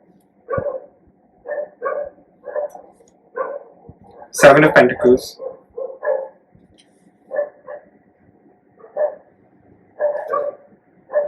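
Dogs bark repeatedly in short, evenly spaced bursts close by, with one louder, longer outburst in the middle, while a person talks over the barking.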